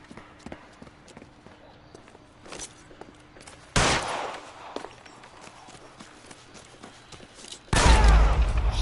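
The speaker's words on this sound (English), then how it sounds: "I only wanted to fire a warning shot" Gunshots in L.A. Noire: a few quiet ticks and footsteps, then two loud, sharp blasts spaced a few seconds apart, the second one heavier, set against a low ambient background.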